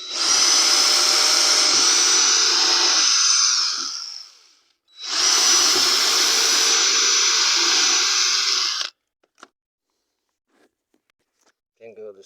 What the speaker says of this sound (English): this board here, I'm going to drill into it.